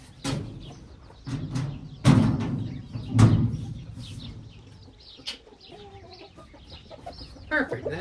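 Chickens cluck inside a chicken coop, with scattered short calls mixed among louder knocks and thumps of something like a door banging nearby.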